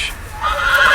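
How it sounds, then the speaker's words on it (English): A horse neighs in the Game of Thrones Telltale video game, one drawn-out whinny that swells and holds near and loud through the short moment, with faint hoof movement beneath and no talk over it. "Calma aí, cavalo."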